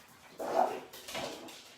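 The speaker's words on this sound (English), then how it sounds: "Okay, the dog might just flip out." An excited dog gives two short whimpering yelps indoors, a brief pause between them, fairly close against a quiet room.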